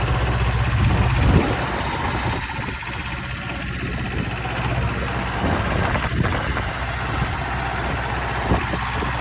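Small imported Japanese ISEKI or Kubota tractor with its engine running, a steady low idling drone close by with a brief louder surge near the start.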